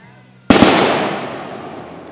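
A single firework is launched by push button at a backyard firework show, one sudden loud boom with a long fading rumble and crackle, heard after a quiet start.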